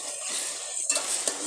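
Ginger-garlic paste and spices frying in a pan, a soft steady sizzle with a few stirring scrapes near the end, close and fairly quiet.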